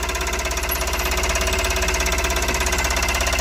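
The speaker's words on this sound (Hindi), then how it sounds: "इंजन दी आवाज़ बहुत बढ़िया बन गई है" A Tata Ace Mega XL small truck diesel engine runs steadily nearby, with a constant rhythmic knocking clatter and no voices.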